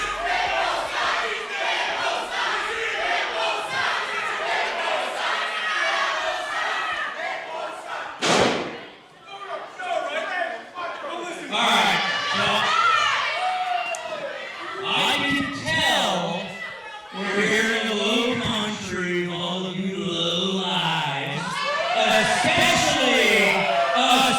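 A wrestling crowd at a Coastal Empire Wrestling event cheers and chants, a loud massed roar of voices rising and falling, broken by a sharp thud, with commentators talking over it.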